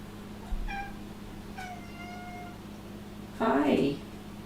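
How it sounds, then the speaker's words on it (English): A pet cat meows several times, short soft calls followed by a louder, drawn-out meow close to the microphone, over a quiet room hum. "My cat, Apollo, decided to say hi"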